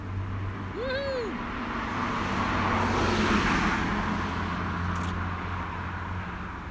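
A Mazda sports car on a road in northern Japan swells up from a distance, passes close, then fades away, with a brief chirp near the start.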